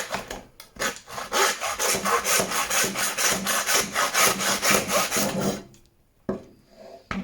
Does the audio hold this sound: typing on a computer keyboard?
no